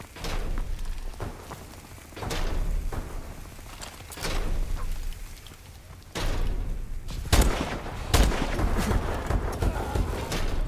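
Sniper rifle shots in a Call of Duty: Advanced Warfare team deathmatch, with several sharp loud cracks, the heaviest near the end, over steady game noise and rumble.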